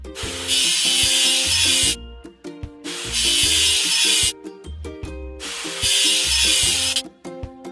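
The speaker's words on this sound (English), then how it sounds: "Let's get rid of the machine's rust." In a children's animation about a bucket-left dump truck, rust is scrubbed off the machine in three long, loud, rasping strokes, each separated by short musical gaps.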